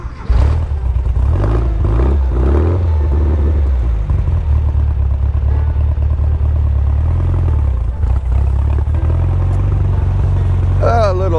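A 1975 VW-powered trike's engine runs loud and steady throughout, a deep low rumble with a few revs early on, carried close along on a ride.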